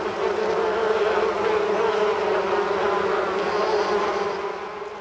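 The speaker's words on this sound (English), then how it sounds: "Then mix in the frightening sound of a huge swarm of bees." A huge swarm of bees hums in a dense, loud, continuous buzz that hangs close and steady throughout, fading a little at the end, with nothing else heard.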